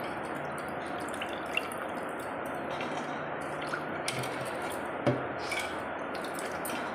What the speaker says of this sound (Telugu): ఫస్ట్ వాటర్ పోసుకొని కొంచెం నానబెట్టుకొని కడుక్కొని తీసి జల్లి గిన్నెలో వేసుకోవాలి